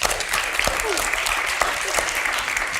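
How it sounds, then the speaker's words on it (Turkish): Studio audience applauding on a Turkish late-night talk show, steady dense clapping at moderate level with a brief whistle-like tone rising through it. "Bengüsü Hanım'ı alkışlıyoruz."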